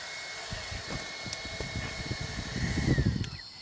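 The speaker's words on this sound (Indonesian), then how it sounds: "Untung kita bawa kipas angin." A portable Mixio electric fan runs at a campsite, giving a steady close whirring hum with a thin tonal whine, plus scattered low bumps and rustles that grow busier near the end.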